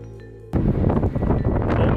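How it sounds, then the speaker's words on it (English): Strong winter wind in New York in February buffets the microphone with a sudden loud roaring rush that starts after a quiet moment and keeps gusting close and heavy. "Oh my god, it's so windy!"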